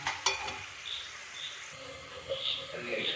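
Jackfruit chips frying in hot oil on a rainy day, a soft steady sizzle with occasional scraping stirs and a sharp clink early on, close and moderately quiet throughout.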